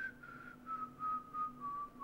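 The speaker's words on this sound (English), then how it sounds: "I would have start like slowly strolling down the street, just whistling slightly" A person whistles softly while strolling down a street, a faint, breathy tune of short, falling phrases with no talking.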